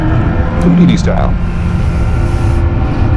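A Kawasaki ZX-14R motorcycle rides through town past a car, its engine a steady low drone under heavy wind rush, while the rider talks over it.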